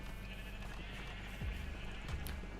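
Sheep in the Minecraft video game bleat twice while being sheared, with short wavering cries over a steady game background; the calls are moderately loud and there is no talk.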